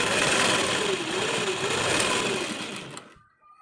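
A sewing machine runs steadily, stitching tucks on a size 36 prince-cut blouse, a close continuous mechanical whir that cuts off abruptly near the end.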